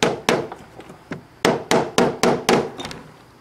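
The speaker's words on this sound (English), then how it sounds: "let's get our hammer here." A hammer strikes a metal steam engine part repeatedly, about ten sharp taps in an uneven rhythm, close and fairly loud, each hit ringing briefly.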